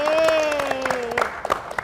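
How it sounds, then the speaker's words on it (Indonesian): A small group claps in a podcast studio at Taman Budaya Yogyakarta: a brief voiced tone opens, then scattered, close claps patter for about a second. "Kita beri tepuk tangan dong."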